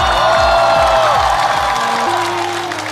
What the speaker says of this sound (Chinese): 掌声送给亮亮。